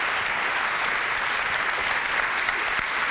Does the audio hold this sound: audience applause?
yes